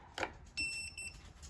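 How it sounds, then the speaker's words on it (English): Amcrest smart lock giving a short electronic beep right after its batteries go in, a thin tone of about half a second, quiet and close, with small clicks of handling around it. "as soon as that last battery gets put in, it makes a beeping noise"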